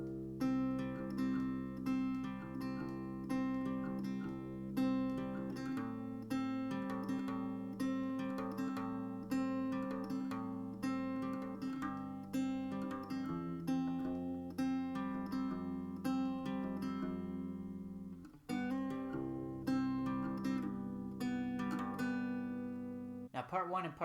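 Acoustic guitar plucks the first verse of a song in a steady rhythm of picked notes, played softly and alone.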